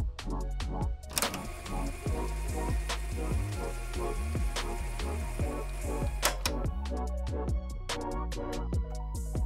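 A wrench works loose the oil filter on an aircraft engine, producing a steady run of close, rapid ratcheting clicks with a few sharper metallic knocks, with no talking.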